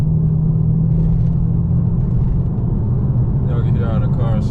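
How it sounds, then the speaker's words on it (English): A Dodge Charger RT with a muffler delete drones low and steady while driving, heard from inside the car. A voice comes in briefly near the end. "Y'all can hear how the car sounds."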